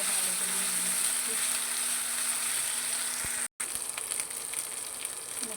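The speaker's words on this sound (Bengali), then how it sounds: "পেঁয়াজ বাটাটা একটু ভালো করে ভেজে নিতে হবে" Onion paste fries in a pan with a steady, close, hissing sizzle and occasional soft stirring ticks, briefly cut off by a short gap.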